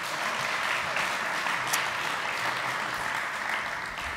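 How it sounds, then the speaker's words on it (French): At a book award ceremony, an audience gives steady, dense applause throughout, a close wash of many hands clapping. "Vous méritez des applaudissements."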